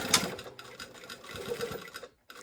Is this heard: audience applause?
no